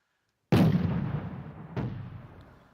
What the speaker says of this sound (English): from the 20mm mini cannon or minigun